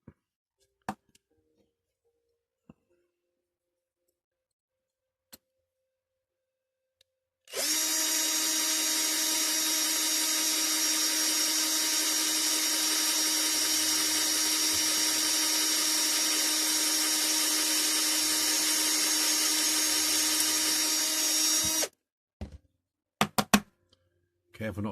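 Power drill boring out the rivet posts on a Dinky Toys Vauxhall Cresta No. 164 model car, a steady loud whine lasting about fourteen seconds, with short clicks and handling noises before and after.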